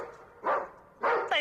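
A dog named Dolly barking, two or three loud close woofs in quick succession with short pauses between, no talking over them.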